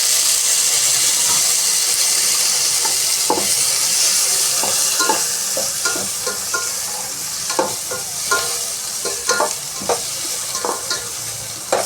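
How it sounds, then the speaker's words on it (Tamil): Tomatoes sauté in hot oil for a Tamil-style fish curry, giving a loud, constant sizzle with frequent sharp scrapes and taps of a spoon stirring the pan. "தக்காளி போட்டு நல்லா வதங்கணும்"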